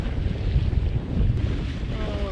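A sailboat under way at sea off San Nicolau, Cape Verde, heading from Tarrafal toward Preguiça, with steady wind buffeting the microphone over a continuous rush of water and hull noise, loud and close throughout.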